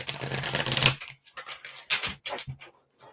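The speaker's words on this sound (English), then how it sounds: "Do ignore the noise in the background. My dog has got a" A dog chewing a rawhide on wooden floors, a close burst of rapid gnawing and scraping followed by scattered knocks and clatters, alone with no talk.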